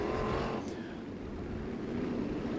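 A sprint race car rumbles steadily near a dirt racetrack at the Don Rehm Classic, its engine droning loud and continuous with a brief swell early on and no talk over it.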